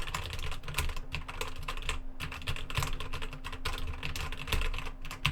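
Fingers type code on a computer keyboard in the Emacs editor, a fast close run of clicking keystrokes with brief pauses, crisp and alone without talking.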